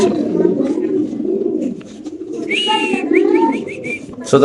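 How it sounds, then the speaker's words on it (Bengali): Fancy pigeons coo in a series of low, throaty rolling calls close by, with a few brighter higher notes partway through and steady background noise throughout. "কবুতর ডাক দেখেন ভাই"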